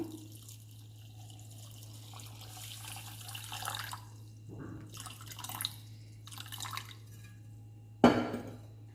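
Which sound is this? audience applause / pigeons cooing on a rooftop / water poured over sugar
water poured over sugar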